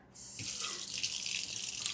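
Hot water runs from a tap in an RV, a steady hissing gush that starts abruptly and keeps flowing evenly at close range, with no talking.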